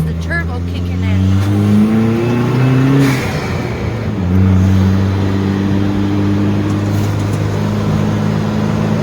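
A car engine pulls hard under acceleration as the turbo comes on, with steady harmonic drone rising in pitch, a brief dip, then climbing again, loud and close from inside the cabin.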